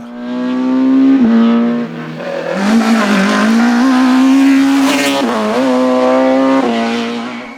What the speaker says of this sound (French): Samuel Duracier qui a dû batailler ferme pour imposer sa Honda Civic Type R